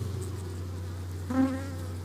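Honeybees hum around an open hive, a close, steady low drone with a brief louder buzz of a single bee passing near the middle.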